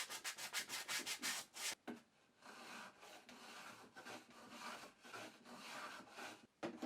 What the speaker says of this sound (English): Just do a little bit of sanding to remove any bits of glue that have come out whilst clamped up.